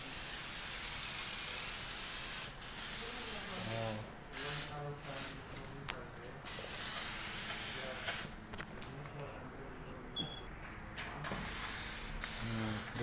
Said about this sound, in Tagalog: Nag-spray-spray ako.